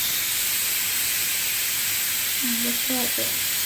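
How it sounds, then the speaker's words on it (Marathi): A pressure cooker releases its steam in a loud, constant hiss throughout, with a voice speaking briefly over it near the end. "पिऊ आता कुकरची हवा काढायला लागली"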